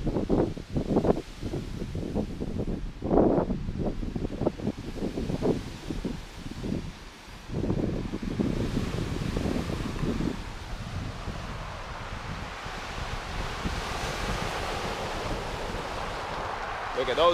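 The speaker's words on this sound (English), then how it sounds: "Look at those waves." Ocean waves break on the shore beside a trail past primitive campsites, a broad, steady surf roar with rising and falling surges, mixed with strong wind buffeting the microphone.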